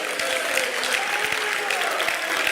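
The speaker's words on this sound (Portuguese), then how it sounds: "Dê uma salva de palmas para Jesus Cristo" A church congregation claps loudly in praise during a worship service, a continuous, energetic round of applause with no talking heard.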